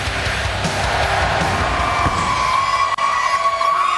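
A packed college football stadium of about 70,000 fans during Kansas State at Texas A&M in 2004 roars in a steady, loud, continuous wash of cheering with no break.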